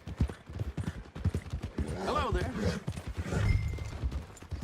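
Horse hooves clip-clop in a rhythmic stream of close, distinct thuds in Red Dead Redemption 2, near a stable, while someone briefly speaks over them.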